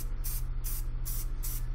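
Short hissing bursts of white spray paint repeat in an even rhythm, four quick sprays over a constant low electrical hum.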